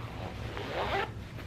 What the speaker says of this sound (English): right here's another zipper